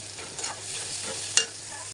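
Egg bhuna stir-fried in oil in a pan, with cumin powder sprinkled on top, gives a continuous soft sizzle with scraping stirs and one sharp metallic clink near the end.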